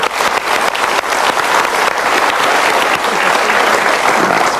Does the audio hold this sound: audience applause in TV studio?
yes